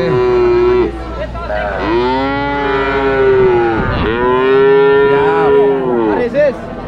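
Cattle at an East Java livestock market, including thin cows, give loud, close, drawn-out moos one after another, several long calls overlapping in a steady chorus with faint crowd noise beneath.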